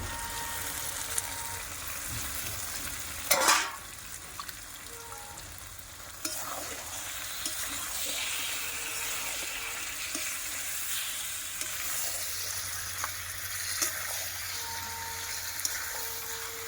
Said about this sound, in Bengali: মাংসটা একটু ভালো করে কষিয়ে নেব